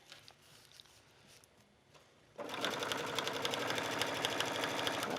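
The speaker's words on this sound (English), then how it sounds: "you're just going to stitch on the edge." A sewing machine stitches along the edge of the fabric for an A-line skirt, starting abruptly after a quiet room and then running at a fast, steady ticking rhythm, close and fairly loud.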